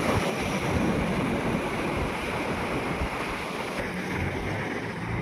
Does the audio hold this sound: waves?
yes